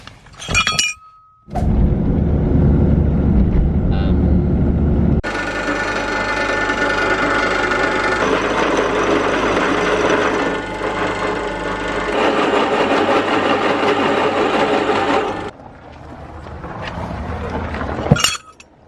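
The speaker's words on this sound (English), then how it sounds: "we'll take them out and drill them out as well" A loud, sustained mechanical whine of a power drill boring holes through steel brackets, running steadily for about ten seconds with brief quieter stretches before and after.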